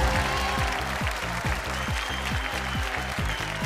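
Studio audience on a Bhojpuri quiz show applauds a correct answer, steady clapping under a loud repeating rhythmic music sting with regular low drum hits throughout.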